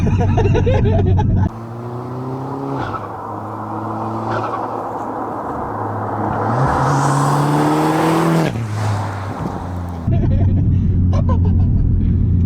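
A tuned VW Golf R MK6 Stage 3 with a 450 bhp VUDU setup driven on the road: a loud engine rumble that rises and falls as it revs through gears, heard from inside the car, with voices talking before and after.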